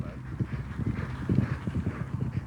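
Horses' hooves clip-clop at a racing stable yard in a quick, irregular rhythm, close and continuous, with muffled low rumble beneath.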